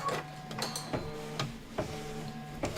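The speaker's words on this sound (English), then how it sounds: "Next thing it's going to do is it's going to stitch the flag tack down trim line, and this is going to go around the perimeter." An embroidery sewing machine stitches a flag tack-down trim line around a pillow design's perimeter, a steady mechanical whir punctuated by regular sharp clicking pulses, close and alone.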